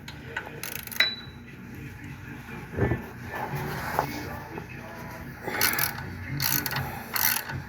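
Ratchet wrench clicking in quick bursts as it loosens the bolts on the underside of a tractor PTO, several separate runs of ratcheting up close with brief gaps between.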